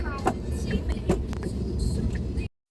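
A car drives to a shopping mall in Whampoa, Hong Kong, with an even road rumble and a few brief knocks and clicks from inside the cabin, before the sound cuts off abruptly.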